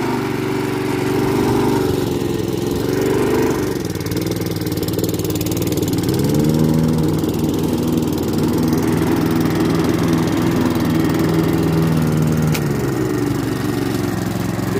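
A Wolf mulching lawn mower runs with its blade engaged, a loud, steady close-up engine drone with slight shifts in pitch as the load changes, continuous throughout with no talking.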